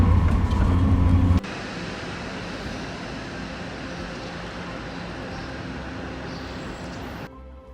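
A steady, even rumble inside a TGV high-speed train running from Germany to Paris. After a brief louder, bassier opening, the hum and rush stay constant and unbroken to the end, with no voices over them.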